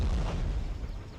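Cannon artillery fire booms in a Russo-Turkish War battle game set at Avliar-Aladzhy, a loud, rumbling blast at the start that trails into a dull, rolling roar with no talk over it.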